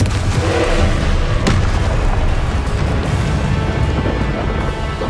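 Confringo blasting spell detonating in Hogwarts Legacy: a loud, sustained booming roar with a sharp crack near the one-and-a-half-second mark, filling the whole stretch without pause.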